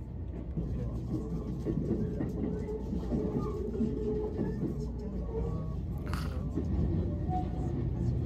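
A train rolls into central Tokyo, giving a steady, low rumble with a continuous rolling hum and a brief brighter rattle partway through. The sound is heard from on board, with no talk.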